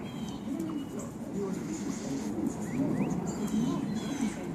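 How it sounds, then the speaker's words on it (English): A flock of pigeons or doves gathered close by, soft repeated cooing murmurs layered together, steady and fairly quiet, with faint chirps above. "Look at these birds."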